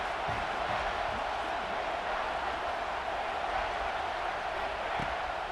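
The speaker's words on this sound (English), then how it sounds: "The Tide crowd rolling noise down onto Saban Field on 3rd down." A continuous roar of a large stadium crowd in the video game EA Sports College Football 26, a dense wash of cheering noise with no distinct voices standing out, steady throughout.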